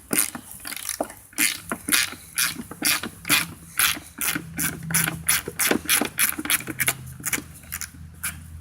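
A hand ratchet loosens bolts on a Honda ATC 110 three-wheeler, rapid repeated clicking strokes in an even rhythm, close and clear with no voices.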